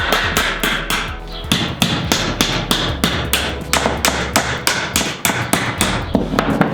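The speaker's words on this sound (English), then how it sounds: "You can just hammer these" A hammer strikes the bent corners of metal roof panel edges on a tiny house in a quick, steady series of about twenty close, loud, ringing blows with no talking.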